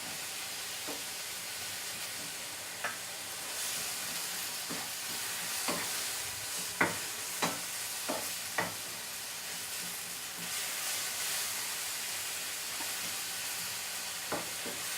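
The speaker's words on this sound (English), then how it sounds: "we're going to just keep stirring it in, make sure it's coated all of the turkey, and make sure it's cooked all the way through" Seasoned ground turkey sizzles and fries in a pan, with a steady hiss and scattered scraping, clicking stirs of a utensil against the pan throughout.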